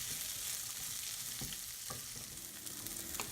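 Black chickpeas with green chilli roasting in a pan, a soft, fairly quiet sizzle running throughout with a few brief ticks and pops from stirring, and no speech.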